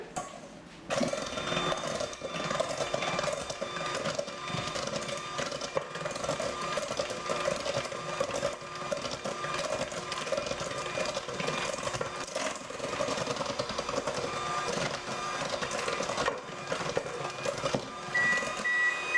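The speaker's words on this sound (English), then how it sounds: "You're going to whisk it again." Chocolate muffin batter being whisked in a bowl, a steady, close, continuous mechanical whirr like an electric mixer running throughout with no talking.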